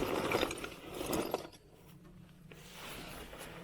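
A deep-socket ratchet wrench clicks and ratchets in short mechanical bursts during an engine swap on a 1998 Craftsman LT1000 riding mower, close by, followed by quieter handling noise.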